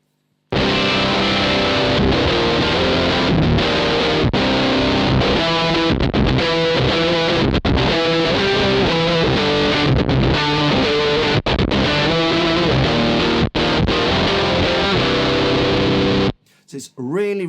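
An electric guitar played through a Gamechanger Audio Plasma Pedal with the blend fully wet gives a continuous, loud, buzzing and fuzzy distorted tone, with chords ringing for about sixteen seconds before a voice briefly begins.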